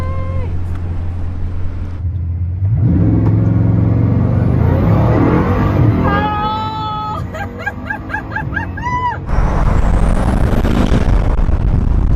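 Bugatti Chiron Pur Sport engine revved while stationary, limited to 4,000 rpm: a loud, sustained deep roar that rises and swells, close up, with strong low rumble throughout.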